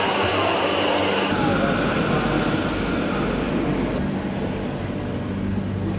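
A train rumbles past steadily with a broad, rushing roar and metallic wheel noise, loud and close for several seconds.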